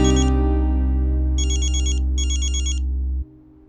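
A mobile phone rings with a repeating electronic ringtone, bright chiming bursts over a sustained tone, loud and close, then cuts off abruptly.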